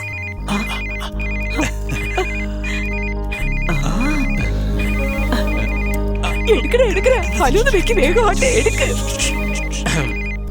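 A phone ringtone repeats in bursts over a melodic tone pattern, with voices talking over it and background music throughout.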